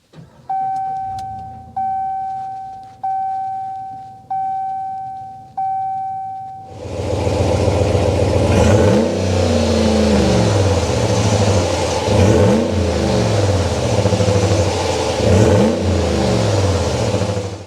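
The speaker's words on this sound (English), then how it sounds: "start it up, so we can hear that exhaust note" A 2024 Ram 1500 Rebel Night Edition with a Hemi V8 cranks after several repeating chimes, then fires up loudly and settles into a deep rumbling idle, with a few throttle blips swelling through the exhaust, close and without speech.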